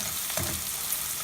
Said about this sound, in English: Let the onions fry and I will show you in a little while.